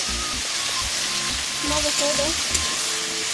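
Potatoes sizzle steadily in a pan with turmeric, a constant close frying hiss with faint stirring, while a voice speaks underneath.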